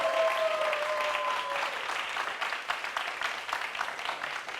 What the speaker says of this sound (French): Je vais demander au public d'applaudir tout simplement.